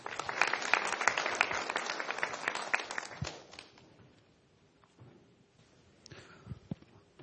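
A conference audience at an education event breaks into warm, dense applause that holds for about three seconds, then thins out and fades to a few scattered claps and quiet room noise.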